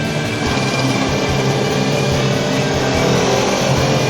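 A Yamaha YZF R3 motorcycle engine drones steadily on a test ride, a continuous loud mid-pitched hum mixed with rushing wind noise and no talking.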